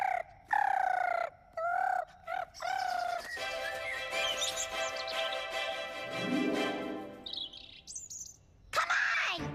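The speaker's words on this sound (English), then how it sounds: "Okay, now what? Bird calls!" Bird calls in an animated cartoon scene: a run of gobbling, fowl-like chirps and warbling tweets, some of them sweeping in pitch, sounding close and bright and broken by short pauses.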